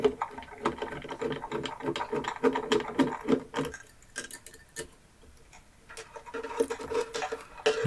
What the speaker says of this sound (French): Donc il suffit juste de dévisser, de déposer le transformateur légèrement sur le côté.